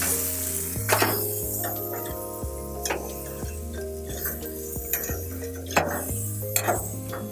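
Cape Grim beef steaks sear on a grill with a steady, bright sizzle, joined by occasional clinks and scrapes of metal utensils, under a sustained background musical tone.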